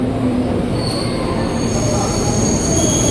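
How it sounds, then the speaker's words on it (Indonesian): A KRL commuter train bound for Bogor arrives at a station platform, its wheels squealing loudly and continuously over a dense rumble of rolling railcars. "Ini dia nih komuter tujuan Bogor."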